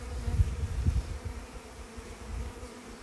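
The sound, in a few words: honeybees buzzing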